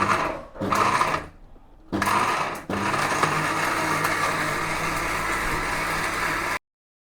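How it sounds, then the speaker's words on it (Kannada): A kitchen mixer grinder whirs through tomato masala paste for rice bath, a loud motor drone in several bursts with brief stops, then one long continuous run that cuts off abruptly. "ಬನ್ನಿ ಮಿಕ್ಸಿ ಮಾಡ್ಕೊಂಬರೋಣಂತೆ ಇದನ್ನು."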